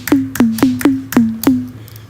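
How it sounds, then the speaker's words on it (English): Six deep, punchy synthesized TR-808-style sine-wave kicks struck in a steady rhythm, each a short click dropping into a low boom that decays quickly. "Kick is usually a sine wave, which sounds very much like here."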